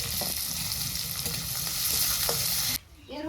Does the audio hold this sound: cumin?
yes